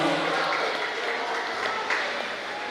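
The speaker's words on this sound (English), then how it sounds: "Big round of applause." Audience applause for a raffle winner at a company prize drawing in Palau, a short steady wash of clapping at moderate distance with a faint voice underneath.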